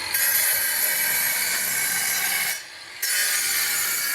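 A steady, harsh high-pitched whine of an angle grinder cutting at a villa construction site, running continuously with a brief dip in the middle before resuming.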